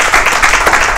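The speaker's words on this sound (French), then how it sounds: "On applaudit pour lui." Loud, close burst of audience clapping for a guest on a live French radio or show set, a brief dense wash of hands with no voices.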